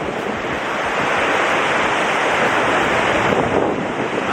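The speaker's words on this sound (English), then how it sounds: "Amazing waterfall." Dynjandi waterfall in Iceland's Westfjords roars in a loud, steady, broadband rush of water that never lets up, heard close with some wind buffeting.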